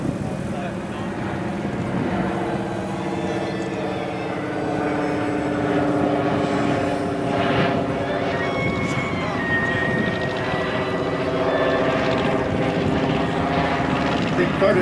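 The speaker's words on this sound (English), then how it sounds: "we have a beaver transiting the zone. Classic de Havilland design" A de Havilland Beaver floatplane passes overhead at an outdoor aviation event, its radial-engine drone steady and loud for the whole stretch, with a faint hint of talk underneath.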